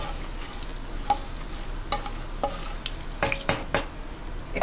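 Whole cumin, cinnamon, small cardamom and cloves sizzling in hot oil, a steady close crackle with sharp intermittent pops and stirring scrapes throughout.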